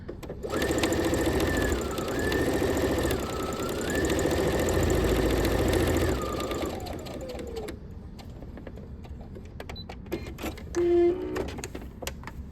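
A sewing machine stitches fabric in a steady rapid whir for about six seconds, its pitch dipping briefly a few times, then winds down, followed by light clicks and handling noises.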